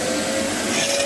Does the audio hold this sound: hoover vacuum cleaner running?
yes